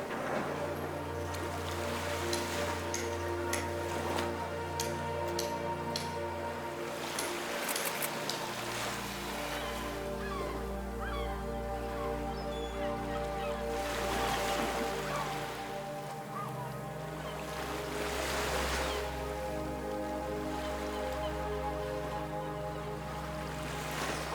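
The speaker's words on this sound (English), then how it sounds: "you'll enjoy panoramic views of the ocean crashing against the rocky shoreline" Atlantic Ocean waves crashing against a rocky shoreline below an 18th-century sea bastion in Essaouira, heard as a continuous distant roar and wash of surf, fairly faint, with low rumble and no talk.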